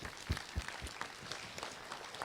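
Scattered audience applause for a newly elected children's municipal council in Villers-lès-Nancy, a few separate claps standing out over a light, moderate patter that carries on steadily.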